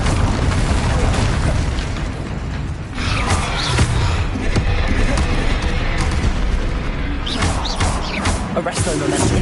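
Incendio fire spell blasts cast in combat in Hogwarts Legacy produce loud, heavy booms and bursting crackles, repeating amid busy battle noise with voices mixed in.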